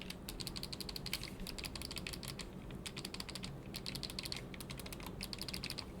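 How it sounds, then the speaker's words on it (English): Rapid, crisp clicking from face buttons fitted with a clicky mod kit on a modded console controller, bursts of close, light taps in quick runs with short pauses between. "It has a whole clicky kit, so it makes all of the face buttons clicky."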